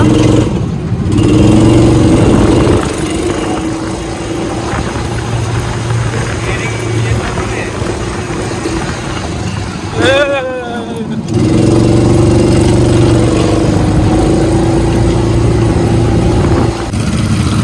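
A go-kart engine drones and revs loudly close by on a karting track, dipping briefly midway before surging again, with people talking over it.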